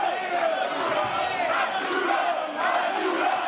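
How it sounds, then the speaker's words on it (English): Wrestling crowd in Montreal rallying behind Abdullah the Butcher at his final match, a loud, sustained roar of voices shouting and chanting together in waves. "See, the crowd's trying to rally."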